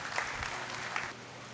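Audience at a Memon community centenary gathering applauding as a member of parliament is invited onto the stage, a brief burst of moderate clapping that tapers off after about a second.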